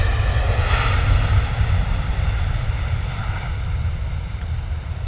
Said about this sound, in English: Mega noise from the A321.